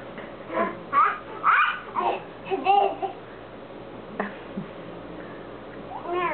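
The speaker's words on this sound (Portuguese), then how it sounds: "Ó, ela tá gritando, tá fazendo dodói, Nicole." A pet cat held in a child's arms meows and cries repeatedly in a string of close, loud, distressed calls, with people talking softly nearby.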